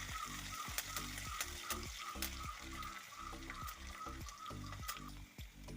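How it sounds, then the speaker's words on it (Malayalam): Crushed shallots and curry leaves sauté for a northern-style fish curry, giving a quiet continuous sizzle with rhythmic scraping stir strokes against the pan, steady and close, with no talk. "അതിലേക്ക് ഇത് 2 കറിവേപ്പില കൂടെ ഇട്ട് ഇളക്കാം"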